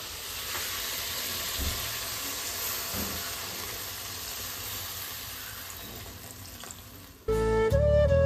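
Spiced masala being cooked down in a pan gives a steady, dense sizzle that carries on evenly for about seven seconds before a louder, unrelated tonal sound abruptly takes over at the end.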